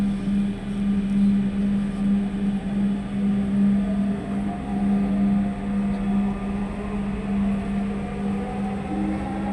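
A Dhaka metro rail train runs between stations, its steady electric motor hum and rolling rumble loud and continuous from inside the carriage, swelling gently in waves.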